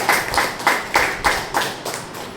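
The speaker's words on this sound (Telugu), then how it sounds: "మనం అందరం కూడా రూపేష్కి మన చప్పట్ల ద్వారా పుట్టినరోజు శుభాకాంక్షలు తెలియజేసుకుంటాము" A small group claps together for a birthday celebration at a meal served to elderly people, a run of about eight even, close claps at a steady brisk rhythm.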